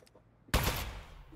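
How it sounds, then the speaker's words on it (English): Aperture Science Turret from the game Aperture Desk Job opening fire, a sudden loud burst of rapid gunfire after a quiet moment, dense and close, trailing off over about a second. "Presenting the Aperture Science Turret."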